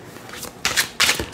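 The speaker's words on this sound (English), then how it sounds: "I'm going to just shuffle. I'm going to shuffle with this." Tarot cards being shuffled by hand, three or four loud bursts of riffling and sliding cards after a quiet start, close up with no talk.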